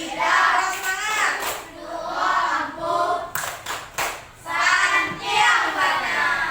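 A classroom of young students claps hands in a set rhythm, sharp claps mixed with loud children's chanting voices, steady and close.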